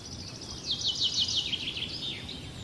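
Birds sing outdoors in the morning, a rapid high trill of chirps that swells and then fades over a soft background hiss, with no one speaking.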